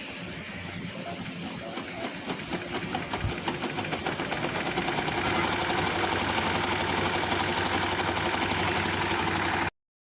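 A domestic sewing machine stitches the seat seam of a loose ladies' palazzo trouser, running as a steady, fast mechanical whirr that builds slightly in intensity and stops abruptly near the end, with no talking.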